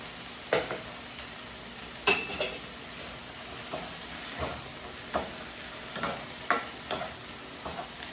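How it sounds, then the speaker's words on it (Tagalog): Shrimp cooking in a pan with shrimp paste: a soft, steady sizzle with scattered clinks and scrapes of a utensil stirring against the pan, close by, no voices. "Lagay na po natin yung hipon para maluto na."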